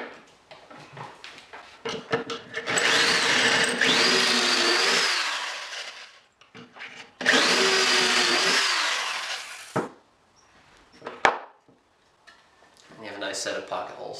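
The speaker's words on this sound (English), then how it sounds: "Stick it in the jig and let's make those pocket holes." A power drill boring pocket holes into wood held in a pocket hole jig for a workbench build, two long whirring bursts separated by pauses, with speech and clicking handling noises in between.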